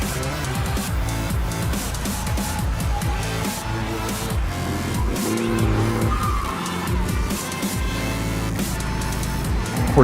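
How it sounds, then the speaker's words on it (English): A car engine roars loudly near the listener, its revs rising and falling over and over as the wheels spin and squeal. The sound is continuous and harsh, and no one speaks. "The roaring engine, spinning wheels, and tense rope create a dramatic and exciting scene."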